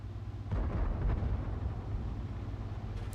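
High-explosive tank shells striking in World of Tanks, a low rumbling impact boom rising after a short pause and rolling on, moderately loud against a steady engine drone.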